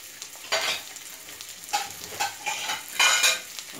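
Sesame-crusted tuna sears in a hot pan, giving a soft sizzle with several bursts of scraping and stirring, fairly quiet and close with no talk.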